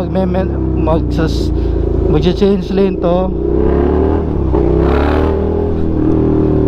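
A Suzuki SV650 motorcycle engine while riding at night, a steady close rumble with revving swells, heard under a rider talking throughout.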